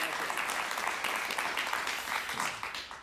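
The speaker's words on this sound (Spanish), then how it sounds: "Un aplauso para él, por favor." A studio audience keeps up steady, fairly loud applause to greet Venezuelan opposition figure Diego Arria at the start of an interview, with faint voices mixed in as the clapping eases slightly toward the end.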